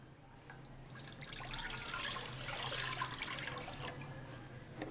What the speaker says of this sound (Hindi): कुकर में 4 कप पानी डाल दूँगी